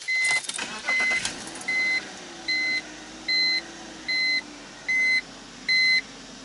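A BMW car starts with a short cranking burst, then a steady series of about eight evenly spaced electronic chime beeps sounds over a quiet idle.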